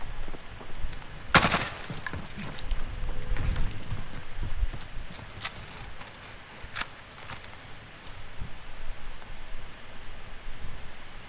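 Video game gunfire in a duo squads match: rapid bursts of automatic shots crack out near the start, followed by scattered shots and shuffling footsteps over a steady noisy background, with no talking.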